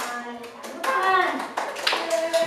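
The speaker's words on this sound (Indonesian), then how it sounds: "mari kita tepuk tangan untuk kelompok cantik" Schoolchildren in an elementary classroom clap for a group, with scattered hand claps under children's voices calling out and chattering.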